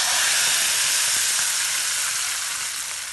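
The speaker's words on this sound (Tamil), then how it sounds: "காஞ்ச மிளகாய் கருவேப்பிலை போட்டு தாளிச்சிருக்கேன்." Dried red chilies and curry leaves sizzle in hot oil while tempering for a ridge gourd pachadi. A loud, steady, close hiss of frying runs throughout and eases off slightly toward the end.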